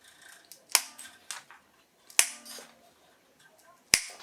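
Old strings being snipped off a Fender Stratocaster-style guitar with a tremolo, three sharp clipping snaps spaced a second or more apart, each trailed by a faint metallic ring, close by, with no talking.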